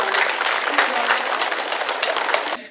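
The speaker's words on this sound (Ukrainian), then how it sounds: "Подякуємо за працю і привітаємо бурними оплесками." Sustained applause from a school assembly crowd honoring a retiring teacher on the first day of school in the village of Pnivne, a dense, steady clatter of many hands lasting throughout, with faint voices mixed in.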